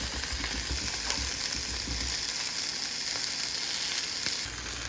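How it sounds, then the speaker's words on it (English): Deseeded peppers sizzle and soften in a hot pan with a steady, close frying hiss and a few faint stirring sounds. "we're just going to soften these up a little bit, let them cook"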